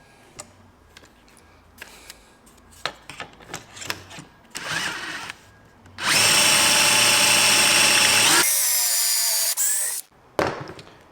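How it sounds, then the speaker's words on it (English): A few quiet clicks and knocks, then a power drill whirs loudly and steadily for about four seconds drilling holes in wood for a slide-out kitchen in a Renault Trafic camper van, its pitch shifting partway through before it stops. "Then you can start drilling the proper holes in."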